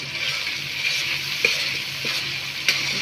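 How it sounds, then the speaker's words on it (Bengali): Onion and garlic paste sautéing in a pan for a Bengali tengra fish curry: a steady, close hiss of frying with a few faint clicks and scrapes of stirring throughout. "এটার মধ্যে পেঁয়াজ আর রসুন পেস্ট দিয়ে দিলাম এখন এটাকে কষাবো ভালো করে"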